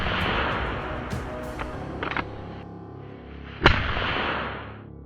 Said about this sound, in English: The sound of gunfire echoed through the forest, triggering more movement.